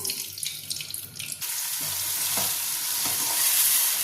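Ghee hits hot oil in a pan and breaks into a loud, dense sizzle that swells and holds steady after a quieter opening of stirring and scraping, with no talk.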